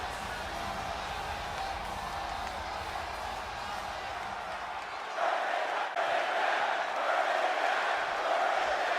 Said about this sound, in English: Capacity crowd tonight here in Seattle.